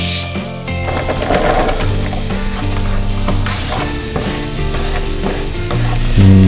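Chopped garlic and onion frying in a pan, a steady loud sizzle and stir running throughout under background music.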